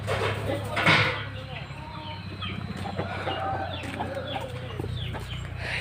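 A flock of free-range hens and roosters clucks and calls continuously, with one louder squawk near the start, while voices murmur faintly underneath.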